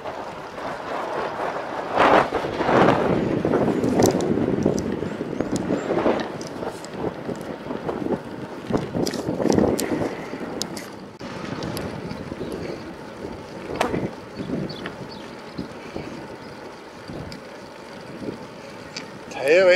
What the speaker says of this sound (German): Teilweise hat es ganz schöne Windböen heute.